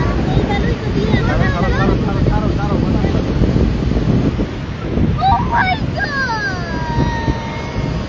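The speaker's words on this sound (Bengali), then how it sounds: "এখন প্রচুর বাতাস আসছে" Strong wind buffeting the microphone in loud, continuous rumbling gusts at a Sydney beach fishing spot, with people talking faintly beneath it.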